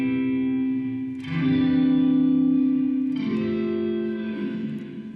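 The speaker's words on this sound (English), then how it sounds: "If we put it on full, you're going to get total kill dry," Mooer Black Truck pedal with its reverb fully wet and no dry guitar, two struck chords blooming into long, washy, shimmering reverb tails that overlap and slowly fade.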